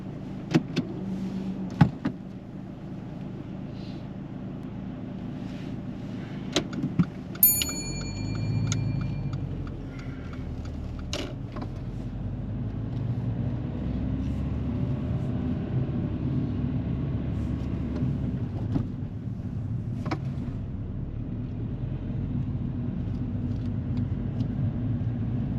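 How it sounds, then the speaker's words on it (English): A car pulling away during a driving test: a few clicks and a chime inside the cabin, then the engine hum builds and settles into a steady, quiet low rumble as the car drives on. "So whenever you're ready, drive off."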